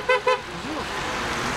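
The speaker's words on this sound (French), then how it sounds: "on n'arrête pas à nous klaxonner" Car horns toot at passing yellow-vest protesters on a French roadside, two short honks in quick succession followed by a steady wash of traffic noise.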